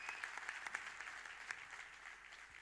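An audience claps warmly for the rhythm section leader of a live R.D. Burman tribute orchestra, steady faint applause from a crowd heard from a distance.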